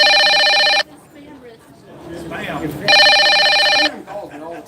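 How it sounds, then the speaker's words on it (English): A telephone rings in two long, loud electronic bursts with a pause between them, and a person talks briefly in the gap, indoors at a griddle cooking demo. "Is that my phone ringing?"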